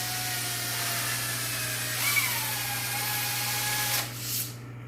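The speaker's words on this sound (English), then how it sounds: "work your paper back and forth as you run your drill." A power drill spins a wooden dowel wrapped in sandpaper, giving a steady whine with a constant low hum, a slight pitch change midway, then winding down near the end.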